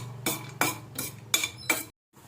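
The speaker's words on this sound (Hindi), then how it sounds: "इसमें हम थोड़े से काजू, थोड़े से बादाम पिस्ता को अच्छे से फ्राई कर लेंगे।" Cashews, almonds and pistachios stirred in medium-hot ghee in a pan: five sharp metal-on-pan scraping strokes in a steady rhythm over a low sizzle, close and clear, then a short silence.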